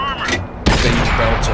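A tank's main gun fires a premium round in World of Tanks on PS4: one loud, sharp cannon blast that cuts into a quieter game background and rumbles on for a moment afterwards.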